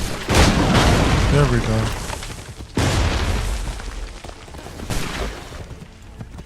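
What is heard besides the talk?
pistol shot in Assassin's Creed 3 video game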